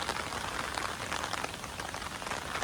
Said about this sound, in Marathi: ढगाळ वातावरण आणि पडणारा पाऊस